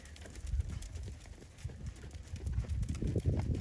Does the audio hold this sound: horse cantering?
yes